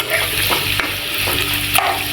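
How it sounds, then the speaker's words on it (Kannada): Onion frying in a pan sizzles steadily up close, with crackling bursts and a few scraping stirs. No one talks. "ಆನಿಯನ್ ಸ್ವಲ್ಪ ಗೋಲ್ಡನ್ ಬ್ರೌನ್ ಆಗಲಿ ಅಲ್ಲಿವರೆಗೂ ಕ್ಲೀನಾಗಿ ಫ್ರೈ ಮಾಡ್ಕೊಳ್ಳೋಣ"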